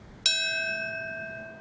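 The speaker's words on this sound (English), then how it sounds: "standing just feet from each other as the bells tolled" A single bell strikes loudly at the September 11 anniversary ceremony in Lower Manhattan. The clear ringing tone decays slowly afterward, heard alone.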